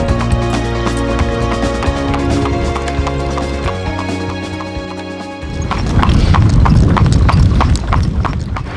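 Horse pulling a buggy on the Aran Islands in Ireland, hooves clip-clopping in a quick, steady rhythm, close and loud, with a brief neigh-like sound and faster, busier hoofbeats toward the end.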